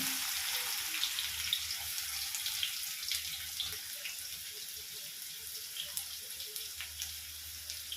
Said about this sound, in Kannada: ಸಣ್ಣದಾಗಿ ಕಟ್ ಮಾಡ್ಕೊಂಡಿರುವಂತಹ ಆನಿಯನನ್ನು ಹಾಕ್ಕೊತಾ ಇದ್ದೀನಿ